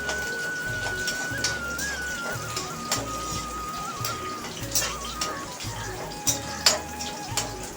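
Onion sautés in a pan for paneer malai kofta, giving a soft crackling sizzle broken by scattered clicks and light stirring over a low background hum.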